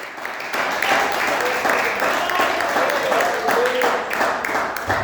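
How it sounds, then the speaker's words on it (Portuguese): Church congregation applauding the Lord after a sermon, a sustained wash of many hands clapping that swells in after a brief quiet start, with faint voices mixed underneath. "aplauda ao Senhor pela sua palavra nessa noite"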